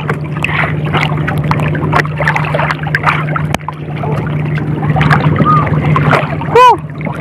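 A motorboat runs at sea off Masbate on a fishing trip. Its engine gives a steady, continuous drone with water splashing against the hull, and faint voices can be heard under it.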